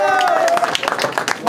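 Audience at a rap battle league event clapping and cheering, a dense burst of handclaps and crowd noise close by that carries through the whole moment.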